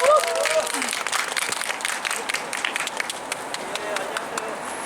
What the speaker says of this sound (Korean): 박수 쳐주십시오